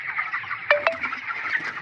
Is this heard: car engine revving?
no